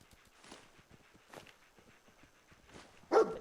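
Faint, distant barks and yips from the dog companion Dogmeat in the video game Fallout 4 come at irregular intervals over low ambient game noise, ending with a louder burst.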